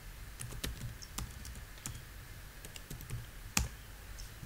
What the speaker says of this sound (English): Just type here